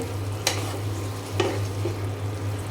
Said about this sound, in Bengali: এখানে যে বাঁধাকপি ভাজিটা হচ্ছে